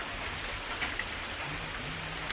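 Heavy rain pours in a steady, dense hiss heard from indoors, with occasional faint drips standing out.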